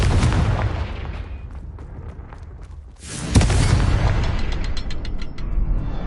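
Confringo blasting spell explosions in Hogwarts Legacy, a sustained rumbling magical blast followed by a sharp, loud burst and continuing roaring impact, loud and close.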